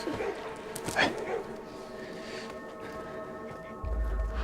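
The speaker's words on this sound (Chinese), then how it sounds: "他是被狗叫吓着了" A dog in an imperial palace gives a few yips and whimpers, mostly early on, mixed under people talking.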